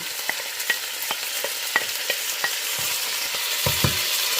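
Pansit bihon noodles with leftover bacon being stirred and fried in a pan: steady sizzle with repeated scraping clicks of the utensil, close and alone.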